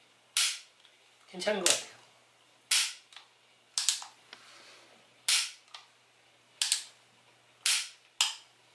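Hammer of a full-metal dummy Beretta pistol with a light ABS build snapping, a series of sharp, close metallic clicks at irregular intervals, with a brief spoken remark between them.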